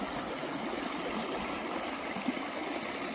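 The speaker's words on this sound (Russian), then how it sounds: "О, как бурлит река." A river in spring rushes and bubbles steadily, a dense continuous wash of flowing water heard up close with no pauses.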